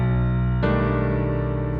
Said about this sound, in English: drag down the altered dominant 7th chord from grip 2